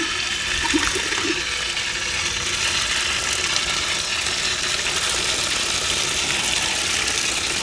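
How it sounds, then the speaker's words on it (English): Tap water runs steadily from a faucet to rinse a dirty water filter, a constant broadband hiss and splash close by that continues without a break and with no talk. "I'm gonna turn the water on just a little bit to give myself some rinsing water."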